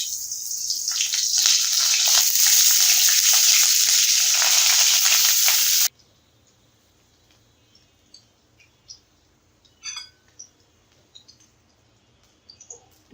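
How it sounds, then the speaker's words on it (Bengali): Pointed gourd pieces fry in hot oil in a wok with a loud, steady sizzle for about six seconds, then it cuts off to near silence broken by a few faint clicks. "আমি এই পার্টটা একটু ভেজে নিব, পটলে এই সাইডটা একটু ভেজে নেব সবগুলা।"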